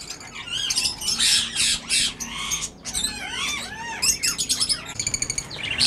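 Fischer's lovebirds and their chicks call in a busy chorus of sharp squawks, chirps and rapid tweets, close and overlapping, with no talking.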